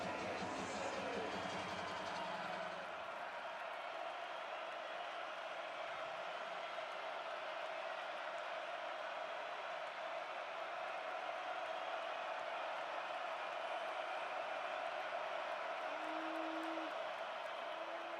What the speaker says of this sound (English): there's that crowd again trying to get the offense out of rhythm